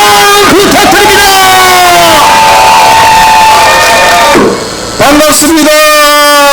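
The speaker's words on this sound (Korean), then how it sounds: "큰 박수와 함성 부탁드립니다." Loud crowd cheering and shouting at a gubernatorial candidate's election rally in Andong, with sustained, tonal, chant-like voices, a brief dip, and then the roar rising again.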